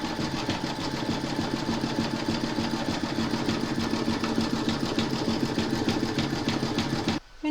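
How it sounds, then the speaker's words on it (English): An embroidery machine zigzag stitching around the raw edge of an inner hoop frame, a loud close steady whirring hum with a fast regular needle rhythm, running continuously until it stops abruptly at the very end. "pop your hoop into your machine and stitch colour number 5, and that's going to zigzag around the raw edge of the inner frame"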